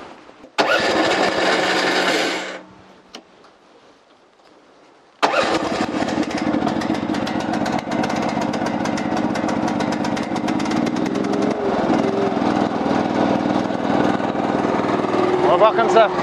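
A Mygale 500 micro excavator's engine fires up after a brief burst, dies away, then starts again and settles into a steady, close, loud running drone.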